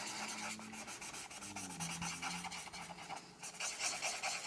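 Alcohol markers colour a galaxy background on paper, giving steady close rubbing and squeaky scratching strokes throughout, with a faint tonal hum underneath.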